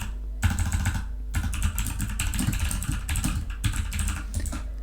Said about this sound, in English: And then I just start typing